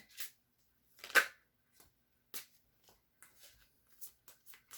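Tarot cards are shuffled by hand in irregular short riffles and taps, close and quiet with silent gaps between bursts.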